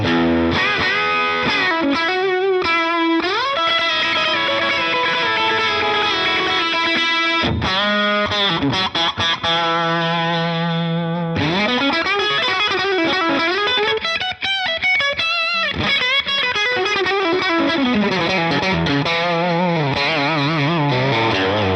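Heavily distorted electric guitar through a Line 6 Helix amp modeler, riffing with chugging palm-muted notes and ringing chords, loud and continuous with brief pauses, no voices.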